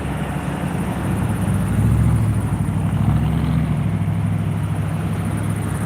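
A Flight For Life medical helicopter on Highway 85 near Fort Lupton gives off a steady, loud rotor and engine drone with a low throbbing pulse that swells slightly midway, continuous throughout with no talk.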